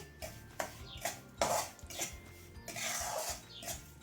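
A utensil scrapes and clinks against a pan while semolina is roasted for suji halwa. The sound is close but quiet, coming as a run of irregular stirring strokes.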